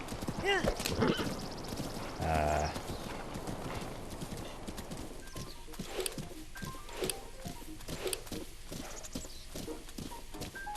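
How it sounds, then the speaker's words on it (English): Horse hooves clop rapidly and rhythmically in a steady gallop in the video game Zelda: Breath of the Wild, horse Epona, with a brief whinny early on and a voice talking over the hoofbeats. "We got Epona, the best horse in creation"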